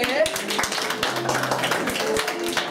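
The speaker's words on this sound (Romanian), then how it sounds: "Aplauze pentru stimata doamnă" Audience applause for a woman volunteer during a comedic magic show, with scattered claps and taps mixed among talking voices over about three seconds.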